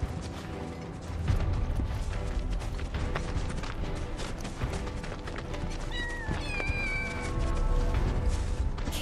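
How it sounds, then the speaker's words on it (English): Small kittens meow in Final Fantasy VII Rebirth, a few high thin mews rising over a continuous game ambience of creaks and mechanical clatter. "Kittens?"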